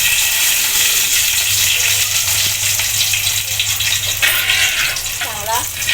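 Running water gushes steadily while curry leaves are washed in a home kitchen during a Konkani prawn and dried bombil fish cooking session, a loud broad wash that continues throughout with a low hum and brief clinks.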